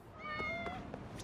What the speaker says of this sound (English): it's a black cat, so this should be easy.